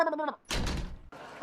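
A door slams shut in a Tamil film scene, one heavy broadband thud with a short rumbling tail, bracketed by voices talking just before and after.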